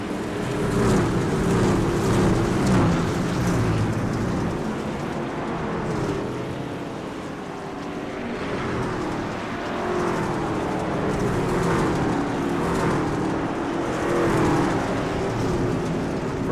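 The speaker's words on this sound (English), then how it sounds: "Still got trucks coming through." Racing trucks on the Bristol dirt track in a video game, a loud, sustained engine roar rising and falling as several trucks pass close by in waves.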